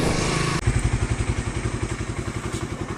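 Close by at a fuel stop, a motorcycle engine chugs at a steady idle, a clear, even thumping pulse that comes in after a short burst of louder noise.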